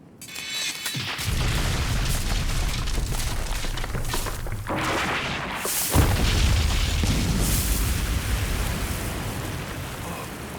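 A Hell Flare magic spell erupts in a heavy, sustained explosive roar with rumbling low boom and crackling, rain-like hiss, swelling again midway and holding loud throughout.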